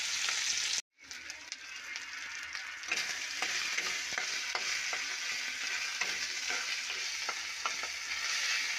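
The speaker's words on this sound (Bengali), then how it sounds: "এরপর টমেটো দিয়ে মশলা ভালোভাবে রান্না করলাম" Spice paste cooked down with tomato for Bengali potato chicken kosha sizzles softly in the pan, with repeated spoon scrapes and taps as it is stirred, broken by a brief gap near the start.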